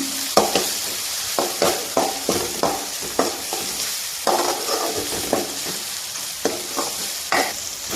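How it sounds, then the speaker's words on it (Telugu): Fresh ginger garlic paste frying in a pan with onions and green chilies, a steady loud sizzle broken by a regular run of sharp spoon-on-pan stirring strokes, close up with no talk. "అల్లం వెల్లుల్లి పేస్ట్ కొంచెం మగ్గనిస్తాను"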